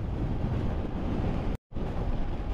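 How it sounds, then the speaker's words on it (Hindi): Strong wind roars across open fields beside a road between Berlin and Schwerin, a dense, steady buffeting rush that drops out briefly for a moment before resuming just as loud. "क्या ज़बरदस्त हवा चल रही है। हवा बड़ी तेज़ है यार"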